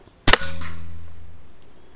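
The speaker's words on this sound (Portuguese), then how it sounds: "Olha lá, primeiro disparo." A P35X Evolution air rifle fires a single slug at a 51-metre target: one sharp, loud crack close by, followed by a faint lingering metallic ring as it fades out.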